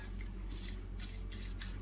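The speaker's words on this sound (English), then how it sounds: "You can spray a bit in from the top" Several short bursts of lubricant aerosol spray hiss, close by, onto an Emmaljunga Edge Duo stroller chassis, separated by brief pauses over a low steady background hum.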